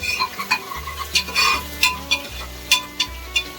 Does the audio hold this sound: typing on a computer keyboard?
no